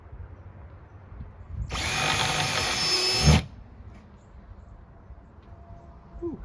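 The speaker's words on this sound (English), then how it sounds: "Now I'm going to take my drill, right here at the end of the mark, drill a hole." A power drill whirs loudly for about two seconds as it bores a hole while building a two-tier workbench, then stops abruptly, leaving a quiet room.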